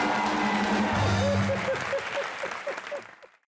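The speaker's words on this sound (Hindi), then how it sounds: "एक बार जोरदार तालियां वीरू पाजी के लिए" Studio audience applause for Viru Paaji on the comedy show Comedy Nights With Kapil: a steady, dense wash of clapping with tonal sounds over it, gradually thinning and fading out at the end.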